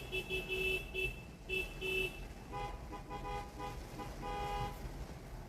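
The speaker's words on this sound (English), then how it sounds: "What's everybody blowing their horn for?" Car horns honk in several short, repeated toots, followed by a longer pair of horn blasts at a moderate distance, with no speech.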